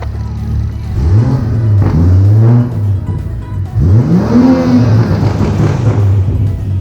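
A BMW F30 with a B58 engine, fitted with an Agency Power intake and VRSF charge pipe, revs twice loudly and close, each rise and fall topped by whooshing turbo noise.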